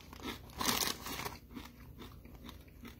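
Crisp, loud crunches of spicy ranch Doritos 3D Crunch chips being bitten, first a sharp burst and then a run of quieter chewing crunches, close to the mic with no talk.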